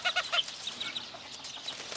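A black hen with a young flock of Sebright, game and Silkie chickens clucks in a short burst of close, sharp calls, then softer scattered clucks follow.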